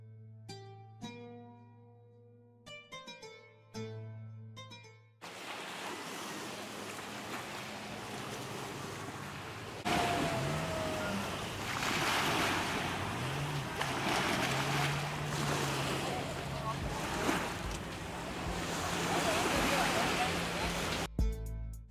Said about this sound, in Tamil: போட் பார்த்தீங்கன்னா பயங்கர ஃபாஸ்ட்டாக போச்சு